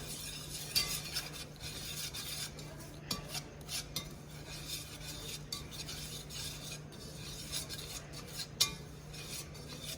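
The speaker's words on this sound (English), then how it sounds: "I'm going to keep stirring here on this" A spoon scrapes and clinks steadily around a pot of creamed spinach with nutmeg, close and continuous, with small metallic knocks and no talking.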